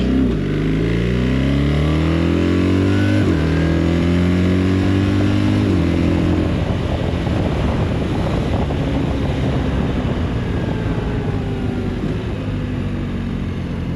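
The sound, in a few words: BMW R1300 RT motorcycle accelerating and shifting gears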